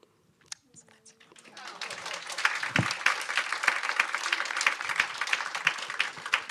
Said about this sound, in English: Can we have another round of applause for the chat?